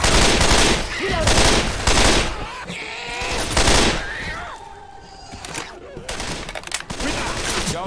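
Rapid bursts of gunfire from auto shotguns and other weapons in Left 4 Dead 2 co-op gameplay, loud and near, with sustained volleys, game effects and players talking over the shooting.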